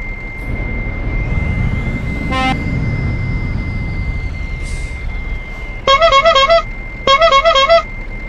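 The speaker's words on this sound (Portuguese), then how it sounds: "Porcaria de buzina é essa" Two short bursts of a harsh, buzzy truck horn honk in Euro Truck Simulator 2, over a low rumbling engine drone, loud and close, each blast lasting about half a second.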